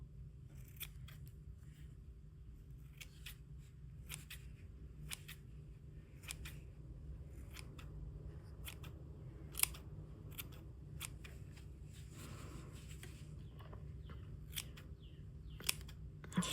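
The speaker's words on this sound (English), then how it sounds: "Trim up a little bit where need be." Small scissors trim wool fur on a needle-felted bunny, giving faint, close, quiet snips scattered irregularly over a soft background hush, with no talking.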